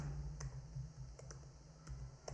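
Typing on a computer keyboard while entering text into a spreadsheet cell, a few soft scattered key clicks against a quiet background.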